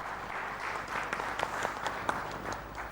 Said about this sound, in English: Can we have a big round of applause for the panel